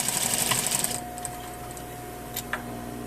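A sewing machine runs a fast, rattling stitch for about a second while sewing a zipper seam in a lined skirt, then stops. A faint steady hum and a few light clicks follow.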